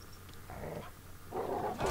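An attack dog in the Call of Duty shooter growls in two low, rumbling bursts, moderately close and alone against game ambience.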